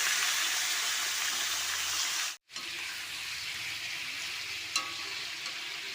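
Chicken pieces fry in hot oil with whole garam masala and a ginger, garlic, green chilli and onion paste, making a loud, continuous close-up sizzle that drops out briefly partway, then resumes with a single clink of stirring.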